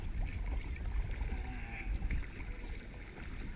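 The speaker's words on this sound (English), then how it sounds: "Some kayaking here, the old Knickerbocker." A kayak paddles across the water at Destin Beach, with soft splashing and water movement under breezy wind noise at a low, steady level and no voices.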